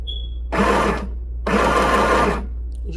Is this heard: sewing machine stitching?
yes